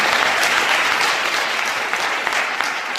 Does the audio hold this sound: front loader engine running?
no